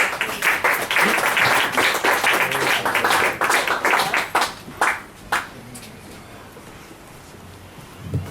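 Audience applause after a reading at a book release event, a dense burst of many hands clapping that thins out and fades to quiet, with a few scattered claps near the end.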